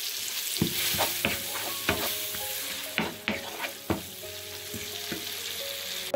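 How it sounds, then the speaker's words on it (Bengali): Chopped onion sautéing in hot ghee with salt in a pan, a steady close sizzle broken by repeated sharp scrapes and taps of a spoon as the onion is stirred. "দিয়ে দিয়েছি একটা পেঁয়াজ কুচি। এটাকে একটু কষে নেব।"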